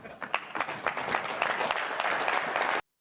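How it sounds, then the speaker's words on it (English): Crowd of university students booing at a talk, a steady broad roar with rising and falling jeers lasting nearly three seconds before cutting off abruptly. "Although we're getting booed from the cheap seats"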